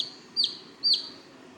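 Two short, high-pitched chirps from a pigeon chick, spaced about half a second apart against quiet background hiss.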